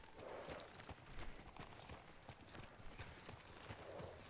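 A horse's hooves clip-clop steadily at a walking pace in the video game Ghost of Tsushima, a close, even rhythm of hoof strikes over soft ambient background, without speech.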